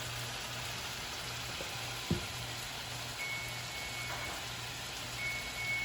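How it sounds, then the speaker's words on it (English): A kitchen timer beeps in short intermittent bursts while lobster tails cook alongside shrimp on the stove. The beeps sit over a low, steady kitchen hum with a brief clunk partway through. "the timer's going off."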